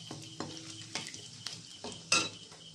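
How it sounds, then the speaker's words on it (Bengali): A tempering of dried red chillies, cumin and bay leaf fries in oil while being stirred, with a soft sizzle under a series of spoon taps and scrapes against the pan and one sharper clink near the end. "ফোড়নটাকে কয়েক সেকেন্ড ধরে একটু নাড়াচাড়া করে ভেজে নেব"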